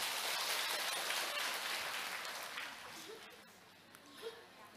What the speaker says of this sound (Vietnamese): cho một tràng pháo tay